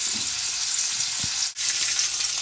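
Hog jowl frying in a pan as its fat renders, giving a constant close hiss of sizzling grease with a brief dip near the middle and faint low bumps underneath.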